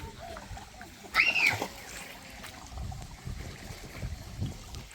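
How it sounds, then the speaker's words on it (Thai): Children splash and play in a rock pool near the Pha Luang waterfall in a Thai forest park. Brief splashes and a high shout rise over a constant low rush of water. "เด็กๆกำลังเล่นน้ำสบาย"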